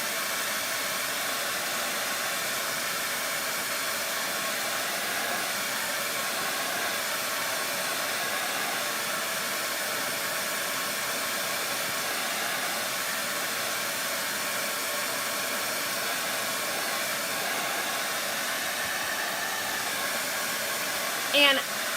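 A hair dryer blows steadily and loudly for the whole stretch, drying a decoupaged collage paper tag, a constant close whooshing hum with no pauses.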